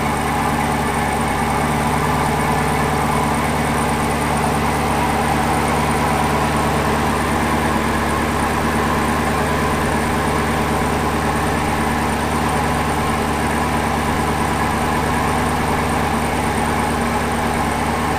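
A Chevrolet Camaro SS V8 idles steadily just after an oil catch can install, a loud, close, continuous low rumble with no speech and no revving.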